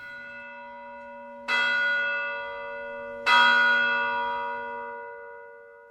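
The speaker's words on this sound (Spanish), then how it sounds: "la campana anunció la medianoche." A church bell tolls at midnight, two deep resonant strikes about two seconds apart, each ringing out loud and close with a long humming decay, with no voices.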